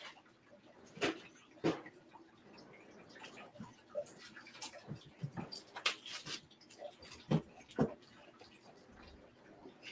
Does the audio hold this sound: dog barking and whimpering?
yes